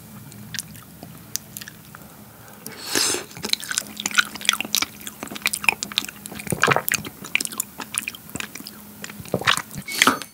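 Close-up eating of sea urchin roe sashimi, soft wet smacking and squishy chewing in irregular bursts after a brief quiet start, intimate and near with no talk.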